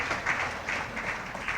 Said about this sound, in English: I want us to give all of them a round of applause for that contribution